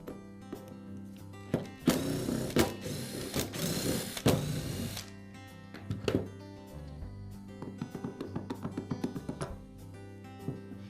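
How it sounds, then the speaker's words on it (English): Screws being removed from the spindle assembly of a Makita angle grinder, with close tool clicks, a ratcheting burst and scraping handling noises, then a quick run of small rhythmic clicks. "Now I can remove the spindle assembly by removing the 4 screws that secure it to the housing."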